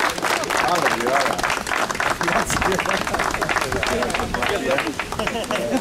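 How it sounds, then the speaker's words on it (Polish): Dense, loud applause at a fishing competition award ceremony, steady crowd clapping mixed with chatter and murmuring voices throughout. "Brawa, brawa."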